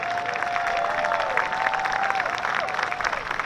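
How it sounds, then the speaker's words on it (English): A crowd applauds steadily, dense clapping filling the room at close range, with a faint whistle-like tone running underneath. "please give them the warmest round of applause"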